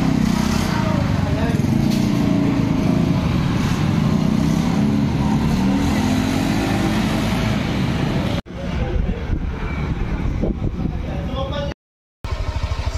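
A Honda Click V3 scooter fitted with a 1K RPM clutch and compression spring revs hard at full throttle, a loud continuous engine drone that holds steady, briefly dips, then cuts out for a moment near the end.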